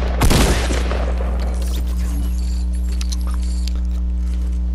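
Gunfire in the Fortnite video game during a squad match, a loud burst of shots at the start that quickly gives way to a steady game soundscape with faint clicks and tones.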